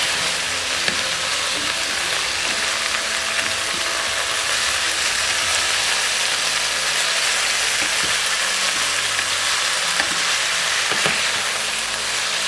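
Thinly sliced pork stir-fries in a very hot pan with a loud, dense, continuous hiss and sizzle, close up, with small rattling scrapes of the spatula and no talking.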